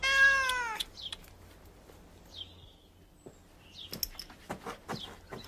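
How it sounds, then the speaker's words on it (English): A cat meows once, loud and close, then a few softer chirpy mews and small scuffling noises follow in a quiet room. "Pippin, leave the poor cat alone"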